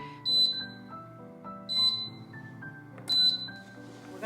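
Thai Vol air fryer being set to preheat, giving three short high electronic beeps spaced about one and a half seconds apart, over a soft background of music.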